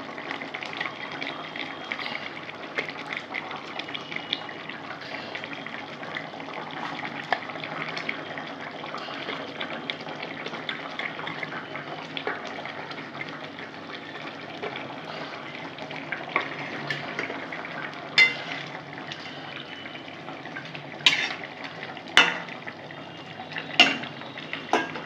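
Pieces of fish go into a pot of simmering Raikhar fish curry with boiled potatoes. A steady bubbling hiss runs throughout, with a few sharper clinks and splashes near the end and no talking.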